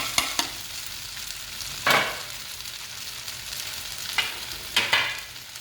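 Pork belly and rice vermicelli stir-fried in a wok with chilies: a steady sizzle runs throughout, broken by several sharp scraping stirs and clanks, close and fairly loud with no talking.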